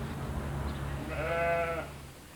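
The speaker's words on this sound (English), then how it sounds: "Here at Rove's farm, it's shearing time." A sheep on a farm at shearing time gives a single wavering bleat lasting under a second over a low, steady background hum.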